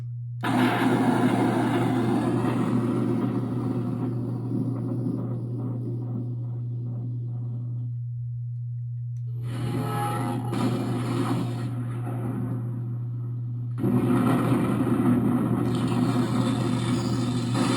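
A loud, steady electronic rumble with a low hum underneath, crackling noise bursts that cut out briefly and return, like the thunder effect of a Marvel Legends Thor Mjolnir toy hammer, loud enough to shake in the hand.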